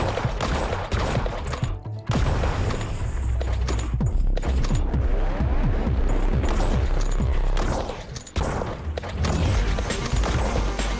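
Machine gun fire from a spider enemy in a VR shooter set in the sewers, loud sustained rattling bursts with crashes and impacts, briefly dropping out twice before the firing resumes.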